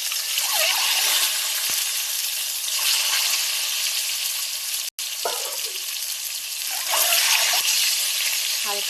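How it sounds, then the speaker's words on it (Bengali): Boiled eggs frying in hot oil, a continuous bright sizzle with occasional stirring knocks and a brief dropout partway through. "এই যে আগে থাকতে ডিম সেদ্ধ করা ছিল সেগুলো আমি তেলে ভেজে নেব।"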